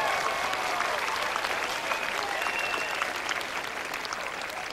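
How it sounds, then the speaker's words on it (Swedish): Steady, sustained applause from an outdoor audience at the Allsång på Skansen sing-along in Stockholm, in the rain, dense clapping holding at an even level throughout without pause. "Ge honom en applåd."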